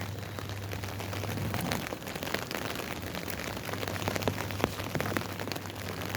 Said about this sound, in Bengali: চারদিকে ফিস ফিস করে বৃষ্টি পড়েই যাচ্ছে